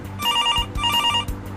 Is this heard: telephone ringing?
yes